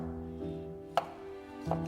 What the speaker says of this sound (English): Finally, chop 2 pieces of garlic.